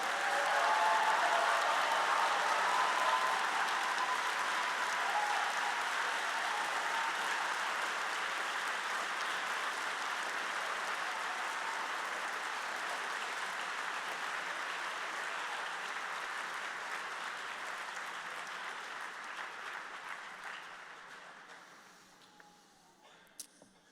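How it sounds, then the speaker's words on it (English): An audience applauds the new white coats at a medical school white coat ceremony: long, dense, sustained clapping that holds steady for about twenty seconds and then fades out, leaving a few scattered claps. "Let's give these beautiful white coats one more round of applause."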